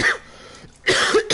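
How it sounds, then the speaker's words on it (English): A short cough from a character recovering from the flu in the PS4 game Sakura MMO 2, heard as a couple of close bursts around a brief pause, with no talk during it. "Still got that nasty cough from my flu."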